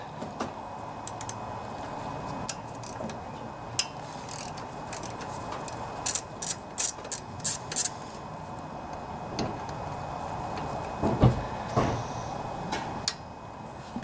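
A ratchet turning a small 5/32 six-point socket on an 8 hp Briggs & Stratton sideshaft engine from a DR brushcutter gives quiet intermittent clicks, with a brief cluster of sharper ticks midway over low background noise.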